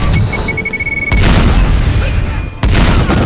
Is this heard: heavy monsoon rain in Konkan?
no